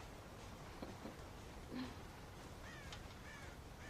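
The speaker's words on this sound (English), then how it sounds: "God damn crows!" Crows cawing in the Red Dead Redemption video game, raiding a farm silo to eat corn; a few faint, scattered caws sit over a low steady background hum.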